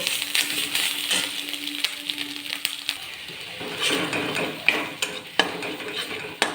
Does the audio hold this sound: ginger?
yes